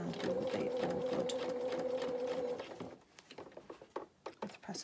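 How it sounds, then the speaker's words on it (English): A sewing machine runs in a steady whirring burst while stitching a faced dress lining, then stops and gives way to a few light clicks and handling sounds. "we can then sew and we will be all good"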